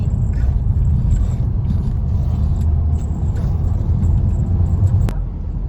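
A car cruises along an open road, its interior filled with a constant low road rumble and engine drone, steady from start to finish, with a brief sharp click near the end.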